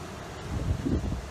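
Strong wind buffets the microphone on a beach in Valencia on Spain's Costa del Azahar, with big waves breaking nearby; a steady low roar with gusty swells, no talking.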